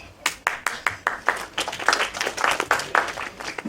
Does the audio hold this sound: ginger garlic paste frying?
no